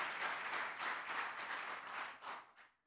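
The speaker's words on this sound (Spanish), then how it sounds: "Give a big round of applause to the Lord." A church congregation applauds together, a dense steady wash of clapping that swells and fades slightly before tapering off at the end, with no voices over it.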